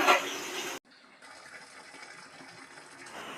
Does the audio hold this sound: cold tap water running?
yes